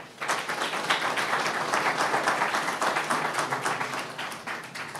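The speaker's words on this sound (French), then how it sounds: "Veuillez l'applaudir, s'il vous plaît." A crowd applauds the newly installed mayor of Pikine Nord at his official installation ceremony; loud, close clapping starts abruptly and holds steady, with a slight pulsing rhythm.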